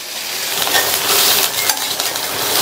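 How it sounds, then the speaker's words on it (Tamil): Ivy gourd sautéing in a pan as it is stirred, a steady close sizzle with scraping and clinking of a spoon against the pan, continuous with no talking. "வதங்கிட்டு இருக்கும்போது இந்த மாதிரி இடையில கிண்டி கொடுங்க"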